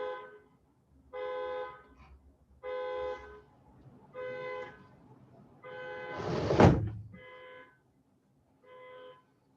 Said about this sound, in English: The horns go off in their cars just because a truck drives by